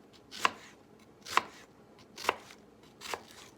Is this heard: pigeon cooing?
no